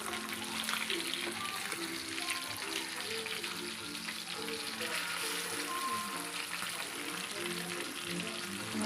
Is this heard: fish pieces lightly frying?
yes